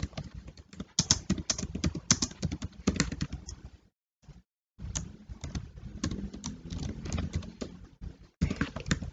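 Computer keyboard typing while entering SQL database statements: dense bursts of close, crisp key clicks, broken by a short silent pause partway through, with no talking.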